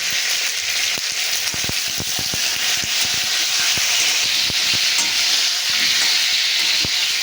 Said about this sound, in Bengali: পটলটা আমি হালকা করে ভেজে নিয়েছি